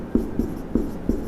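A pen writing by hand during a geometry lesson, four quick scratchy strokes spaced about a third of a second apart, close and clear, with no talking.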